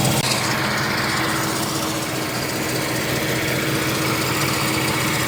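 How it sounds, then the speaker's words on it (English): An air pump drones loudly and continuously in a car workshop during an electric fan conversion, with a steady mechanical hum and no pauses. "Now if that air pump will stop making noise"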